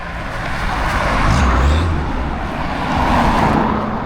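Road traffic on a lane crossing near Horsforth and Cookridge: a continuous close wash of car noise, with a vehicle swelling past in the middle and another at the end, no voices.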